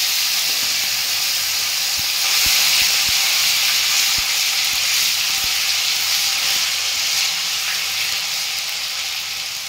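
Ginger garlic paste sizzles steadily in hot oil, a loud dense hiss that stays constant throughout, with a few light clicks of a utensil against the pan.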